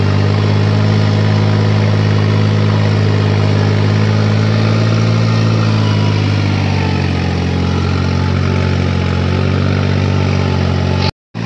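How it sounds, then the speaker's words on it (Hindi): A 3630 tractor engine runs at full throttle, a loud, steady, even drone held close for the whole stretch with no drop in pitch, cutting off abruptly at the very end. "अब भाइयों पूरा खुल चुका है ट्रैक्टर"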